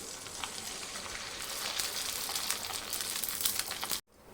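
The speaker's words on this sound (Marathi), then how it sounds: "आता आपण पापड वगैरे कुरडे तळून घेऊया" Papad and kurdai frying in hot oil, a dense crackling sizzle with bright popping bursts that holds steady and loud, then cuts off abruptly near the end and returns more faintly. No one speaks.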